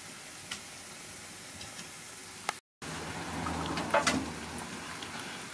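Eggs fry in a pan with a steady soft sizzle and scattered crackling pops, close by and fairly quiet, broken by a brief dropout midway.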